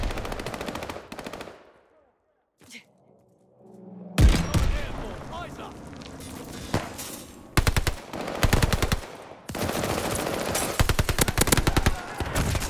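Heavy video game combat with a war machine grenade launcher: loud, dense bursts of rapid fire and explosive thuds, interrupted by a near-silent gap, then returning in long, sustained barrages with a voice talking.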